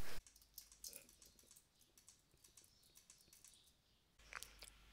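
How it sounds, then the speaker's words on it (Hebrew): Computer keyboard typing and mouse clicks picked up by a Tonor BM700 microphone, a quiet scatter of irregular close taps and clicks with a louder burst at the start and near the end. "זוהי בדיקה של רעשי הרקע של המיקרופון BM700 כגון מקלדת ועכבר."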